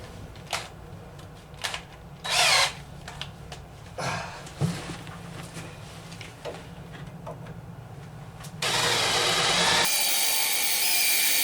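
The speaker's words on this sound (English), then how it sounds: "let's see if we got enough juice" A power drill whirs in several short bursts, then runs longer and louder near the end, with quiet gaps of handling noise between.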